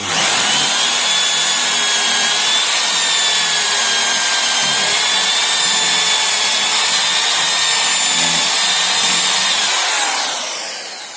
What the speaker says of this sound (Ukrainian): Тепер ми викручуємо верхні саморізи